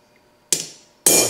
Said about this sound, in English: Actually, I'm just center punching them here